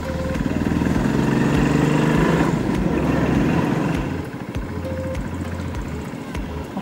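A motorcycle ridden without a clutch cable on winding roads, its engine droning loudly and steadily at first, then easing to a lower, lighter rumble as it slows.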